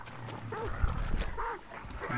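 Dogs barking in the game Hunt: Showdown, a few arched, yelping calls that stand out over a low ambient rumble and background noise, moderately near.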